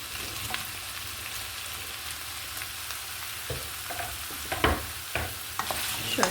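Artichokes being sautéed in a pan with meat and onions for an Izmir-style stew: a steady low sizzle runs throughout, with scattered scrapes and clacks of a stirring utensil growing more frequent toward the end.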